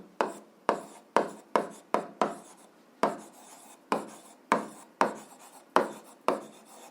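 Handwriting during an 8th-grade algebra lesson: about a dozen quick, scratchy strokes land close up in an uneven rhythm, each a sharp attack that fades quickly, with no talking.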